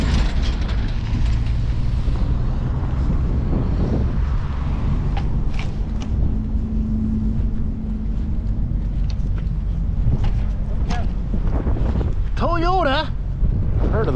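Strong gusts blow straight into the microphone during a walk through an industrial area beside a road bridge, a loud continuous low rumbling buffet that runs the whole time, with faint voices and brief mechanical rattles underneath.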